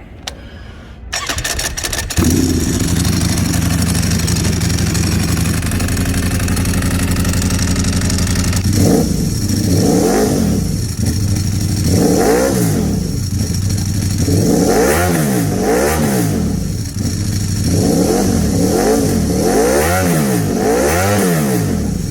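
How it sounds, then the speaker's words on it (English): A Ducati Panigale V4 SP with an SC-Project full titanium exhaust fires up and idles loudly, then is revved repeatedly in sharp rising-and-falling bursts, close by and aggressive. "Panigale V4 SP with the SC-Project World Superbike full titanium exhaust"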